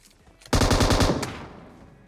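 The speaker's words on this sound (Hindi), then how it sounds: "और हमारे भाई ने M249 चला दी।" A burst of M249 machine gun fire from the mobile game Battlegrounds Mobile India: a loud rapid string of shots lasting under a second, with a final report and a fading echo.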